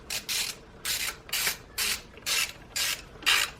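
A ratchet wrench with a 10mm socket loosens a bolt on a Saab 9-3 T8 ECU. It makes seven evenly spaced, raspy clicking strokes, close and fairly loud, with no talk.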